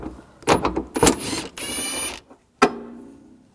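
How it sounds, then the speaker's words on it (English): A 13mm socket ratchet working a nut loose on the battery of a 2001-2009 Volvo S60: a run of quick mechanical clicks and rattles, then a steady whirring ratchet buzz, a pause, and one final sharp clack, close up with no talk. "Using a 13mm socket, take this nut off."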